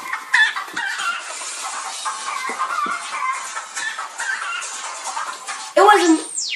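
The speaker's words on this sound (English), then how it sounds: "This is my ringtone." A Crazy Chicken phone ringtone plays, with clucking and squawking chicken sounds running continuously for several seconds and a sharp rising crow near the end, while someone talks over part of it.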